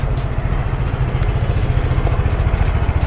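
A motorcycle engine idles close up with a steady, even low-pitched thrum that runs without a break and with no talking.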